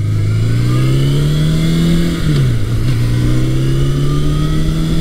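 A warmed-up 1982 Suzuki GS750E motorcycle engine runs at a steady, loud idle close by, its even drone sagging briefly once and then settling back, with no voices.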